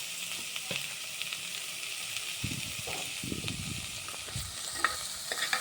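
Whole cumin seeds fry in hot oil and are stirred in a pan, a faint, steady sizzle broken by short bursts of scraping and stirring near the middle, close and quiet.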